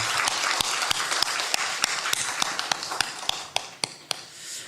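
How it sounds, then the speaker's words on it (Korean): A Sunday church congregation claps in praise: sharp, distinct hand claps in an uneven, loose rhythm, fairly close, that grow sparser and fade out toward the end. "우리 하나님께 영광의 박수 한번 올려드리겠습니다"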